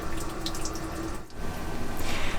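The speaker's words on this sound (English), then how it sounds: "That's the sea strainer, which just seems to be pouring seawater." Seawater pouring from a sailboat's sea strainer, a steady loud rushing and splashing of water that continues throughout with no talk.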